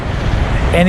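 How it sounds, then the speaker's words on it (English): Low rumble of passing trucks, steady and droning, with a faint engine tone rising near the end, on a windy day in Sidney, Nebraska. "You can see a whole bunch of trucks in the background."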